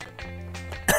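A game character in Bully coughs once, a short harsh burst at the end after a sustained low tonal background of game music or voice, close and loud.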